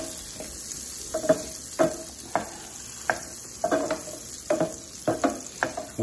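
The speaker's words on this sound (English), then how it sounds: "Especially when you're caramelizing onions, it's awesome." Onions caramelizing in butter sizzle steadily in a pan, with a spoon stirring and scraping through them in repeated strokes, loud and close, with no voices.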